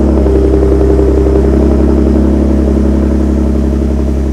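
A Ford Raptor pickup fitted with an AWE 0FG exhaust after a cold start, a loud, deep, steady burbling idle held close up with no talk over it.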